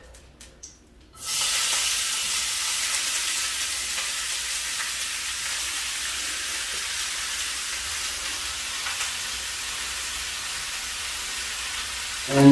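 Mixture sizzles loudly and steadily in hot olive and vegetable oil for a cheesy spaghetti squash au gratin, after a brief quiet start, with a continuous hiss of frying throughout.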